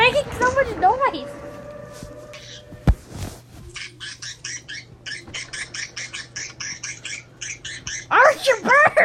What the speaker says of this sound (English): Your bird is making so much noise.